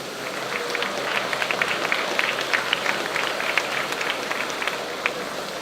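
A crowd claps at the opening ceremony of Suriname's Eduard Alexander Gummels International Airport, a sustained and moderately loud patter of many hands. It holds evenly for over five seconds with sharper individual claps scattered throughout.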